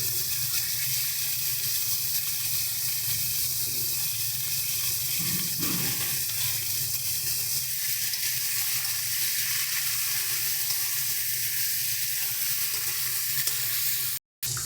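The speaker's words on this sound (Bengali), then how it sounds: "দেখো, আলু আর বেগুনটা আমাদের খুব ভালোভাবে ভাজা হয়ে গেছে।" Potatoes and eggplant fry in a pan for a Bengali dried churi fish curry, giving a steady, close sizzle throughout with occasional stirring and faint clatter, no talking.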